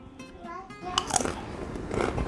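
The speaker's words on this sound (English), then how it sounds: "You can hear they're very crunchy." Someone bites into thin crunchy breadfruit chips close to the mic, with a few sharp crunches after brief voices in the background.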